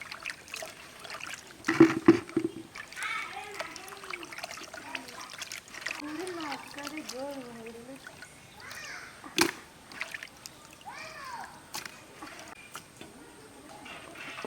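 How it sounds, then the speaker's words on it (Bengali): Cut pangas fish being washed in water, with gentle splashing, sloshing and trickling close by, broken by a few sharper splashes, as a voice talks over it and birds chirp faintly. "এখন মাছটা ধুয়ে নেব।"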